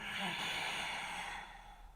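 A slow, deep exhalation through the nose during a hatha yoga routine, a soft breathy hiss that trails off over a couple of seconds, close and quiet.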